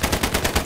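Rapid automatic gunfire in a video game firefight, a steady rattle of about seven evenly spaced close, loud shots.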